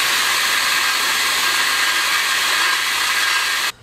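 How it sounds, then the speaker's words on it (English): A grinding stone whirs steadily at a high pitch while clearancing an engine block for a stroker crank in a home garage, loud and continuous, then cuts off abruptly near the end. "after grinding in this for a little bit, and that stone really does a good job"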